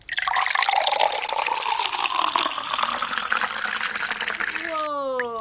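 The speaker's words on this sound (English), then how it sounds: "That's the sound of water" Water poured into a glass, a steady close splashing and trickling stream that rises in tone as the glass fills, with a short voice at the end.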